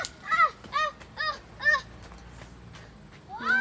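Goose-like bird honking while flying, several short nasal honks in quick succession, fairly close, followed by a pause and another honk at the end.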